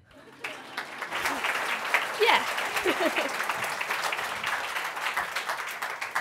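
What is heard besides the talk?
audience applause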